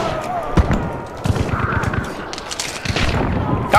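Gunfire in Hunt: Showdown, several sharp close shots and bursts cracking amid game noise, with a voice talking over part of it.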